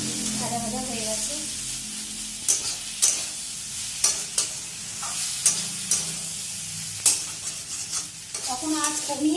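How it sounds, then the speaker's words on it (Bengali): Vegetables for a puti fish chorchori sizzle in a pan while a spatula scrapes and knocks against it in repeated strokes, a close steady frying hiss underneath, with a voice speaking at the start and end. "কখনো আঁচ কমিয়ে কখনো বাড়িয়ে এটাকে ভাজবো"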